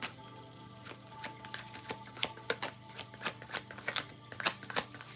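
Tarot cards being shuffled to draw clarifier cards, a rapid series of close riffling bursts and soft flicks with no talking.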